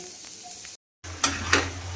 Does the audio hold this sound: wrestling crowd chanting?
no